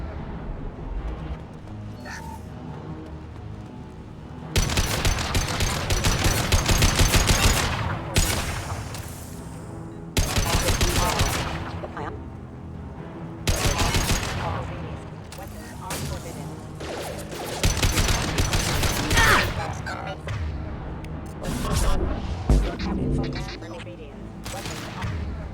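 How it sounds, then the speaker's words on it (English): Mechs fire their guns in the video game Mass Effect 2, with loud sustained bursts of gunfire repeating every few seconds under and between talking voices. "His mechs shoot without question."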